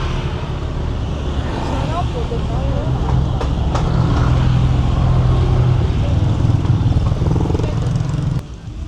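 Street traffic in Patong, Thailand, a steady loud roar of cars and motorbikes passing close by, with engine hum throughout and a few short horn-like tones, while people talk over it.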